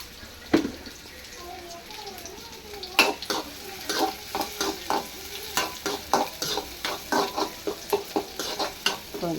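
Curry leaves crackle and sizzle in hot oil, with a string of sharp pops and spatters over a low, steady frying hiss, close by, while someone speaks faintly underneath.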